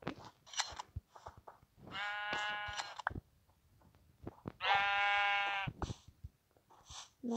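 Minecraft sheep bleat twice in long wavering calls amid sharp clicking and tapping game sounds, fairly quiet overall.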